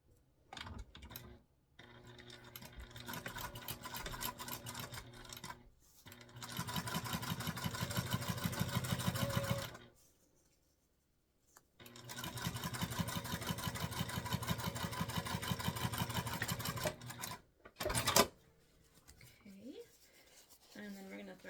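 A domestic sewing machine top-stitches a structured bag in long runs of rapid, even needle clatter. It pauses between bursts and finishes with a few short stitches.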